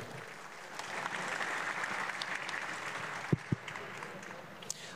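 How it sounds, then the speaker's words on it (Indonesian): An audience at an Indonesian gathering applauds Bang Onim and Filin on stage, with continuous moderate clapping and a couple of sharp thumps near the end. "Boleh tepuk tangan sekali lagi."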